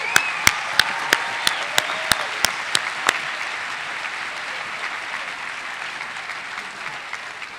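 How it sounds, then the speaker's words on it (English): Sustained applause from an audience at the Claremont McKenna College 2018 commencement ceremony, honoring the graduating BA/MA class; dense steady clapping fills the hall throughout, with a string of sharper, louder claps standing out near the start. "Ladies and gentlemen, we welcome your applause for the BA MA class of"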